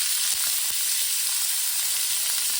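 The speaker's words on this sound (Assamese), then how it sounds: "তেলখিনি পেনখন গৰম কৰি পেলাই মই মাংসখিনি দি দিম।" Chicken meat sizzles in hot oil in a pan for a smoked chicken dish, a loud, dense and continuous frying hiss with a couple of brief clicks early on and no talk.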